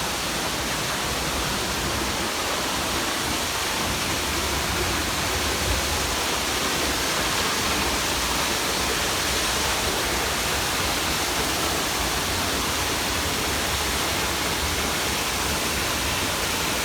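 A large waterfall at one of seventeen falls along a trail, its roar a steady, full broadband rush that stays constant and loud throughout, with no voices.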